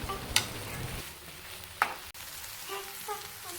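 A spoon stirs cabbage fry with coconut in a pan over a gas stove, with soft scraping and occasional clinks against the pan over a low continuous sizzle.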